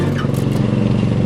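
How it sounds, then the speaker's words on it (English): A motor mower cutting grass outdoors gives off a steady, rough engine drone with light clatter, fairly close and loud throughout. "Grass cutting."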